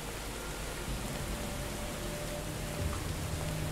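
Steady rain falling in the video game EBOLA, a constant broadband hiss of drops spread evenly through the scene with no talking over it.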